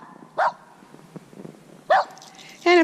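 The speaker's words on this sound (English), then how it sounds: "She has to bark at me." A dog barking outdoors in snow, three short sharp barks spaced apart, fairly close, with quiet background between them.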